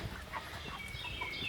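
Chickens, including Amber Link and black sex link hens, clucking softly inside a chicken tractor outdoors; faint, scattered low clucks over a steady background hiss, with no talking.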